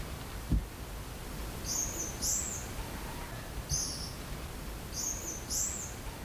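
An Ua Huka monarch (Patiotio) calls from a forested island setting, giving repeated pairs of high, sharp whistled notes in three bursts over a steady hiss of background ambience, moderately close.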